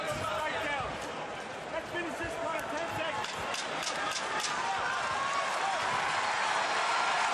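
Arena crowd cheering at a UFC fight in Boston, Conor McGregor against Max Holloway, a dense continuous roar under a commentator talking.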